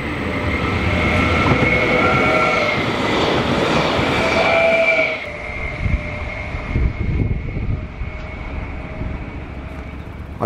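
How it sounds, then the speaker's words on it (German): A regional passenger train on the Rhine railway line rolls past loudly, a sustained rumble with wheel clatter that fades after about five seconds into quieter rail noise. "nach einer gefühlten Ewigkeit kam der Nahverkehrszug von Norden in die Gegenrichtung gefahren"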